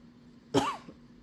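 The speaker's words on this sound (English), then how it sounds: "I didn't start coughing until the video started" A single short cough, close and fairly quiet, followed by a faint trailing throat sound against a low, steady background hum.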